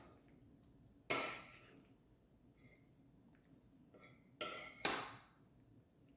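Canned black beans are tossed in a bowl, giving a few sharp clinks and clatters of utensil against dish at separate moments over a quiet room, with no speech.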